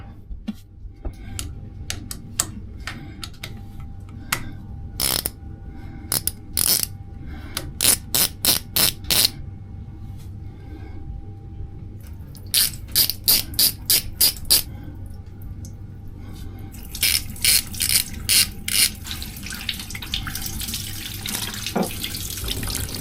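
Ratchet work on a boat engine during an impeller change: quick bursts of sharp clicks with pauses in between, heard close over a steady low hum and no speech.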